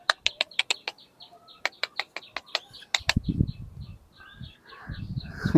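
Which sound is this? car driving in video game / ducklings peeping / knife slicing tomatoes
ducklings peeping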